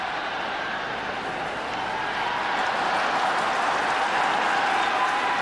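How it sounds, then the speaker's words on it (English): Baseball crowd doing the wave at Tokyo Dome during an exhibition game between the New York Yankees and the Yomiuri Giants, a broad, steady roar of distant cheering and clapping that fills the stadium. "They're doing the wave here at Tokyo Dome"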